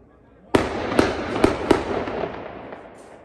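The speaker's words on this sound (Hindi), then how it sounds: "ये देख सकते हैं आप फायरिंग हो रही है सब आपके हॉस्पिटल के अंदर" Four sharp, loud bangs ring out about half a second apart, each followed by a long echoing tail, as gunfire is reported at Al Nafees Medical College in Islamabad.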